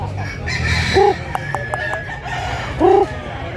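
Roosters at a busy Cebu poultry market give two short, clear crows amid crowd chatter and background noise.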